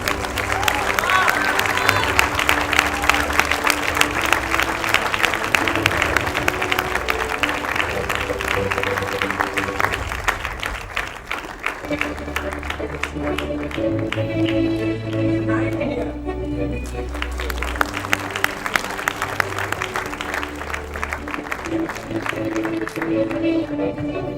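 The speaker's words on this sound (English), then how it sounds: "Ladies and gentlemen, please give a big round of applause to Pasadi Dekwala." An audience gives sustained applause and cheering for a karate championship award winner at a university medical faculty colours awards ceremony, with loud dense clapping, crowd noise and background music throughout.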